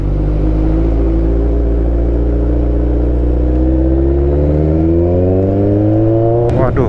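A vehicle engine revving under throttle while touring in Bali, a loud close drone that climbs steadily in pitch with layered harmonics before a sharp click at the end.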